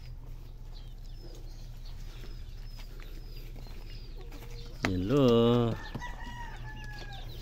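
Roosters and hens of a Texas import breed on a farm in Batangas cluck softly, then one rooster crows loudly and close near the end; a voice briefly speaks.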